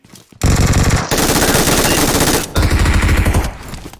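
Heavy gunfire in the mobile battle-royale game PUBG Mobile comes in three long, loud, close bursts of rapid shots, with a brief pause between each, then fades at the end.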